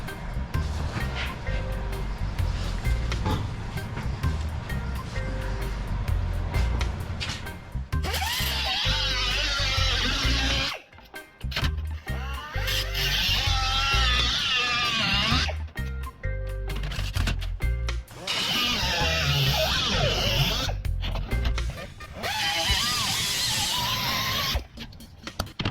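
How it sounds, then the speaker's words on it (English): An air compressor and cut-off wheel cutting the bed of a 1949 Jeep Willys pickup, loud sustained harsh grinding and whine in long stretches with brief pauses, close up and without talk. "So let's fire up the compressor and get a cut-off wheel,"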